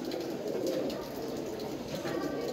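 Soft, low cooing of a Salara Teddy pigeon murmurs steadily through a continuous background hum, with faint chirps above it.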